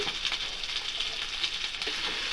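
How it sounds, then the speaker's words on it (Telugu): Onions sizzle in a hot pan with cumin, bay leaf, cinnamon and cloves for a mushroom masala curry, a steady close crackling fry with faint stirring. "ఇవన్నీ కలిసినట్టుగా త్వరగా వేయించుకోవాలి"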